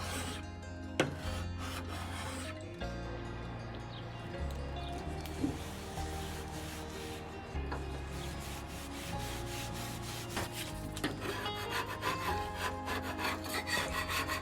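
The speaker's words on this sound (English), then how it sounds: "I wound up needing to go in with my carbine scraper." A carbide scraper works old residue off a wooden dresser with repeated rubbing, rasping strokes, close and steady, with no talk over it.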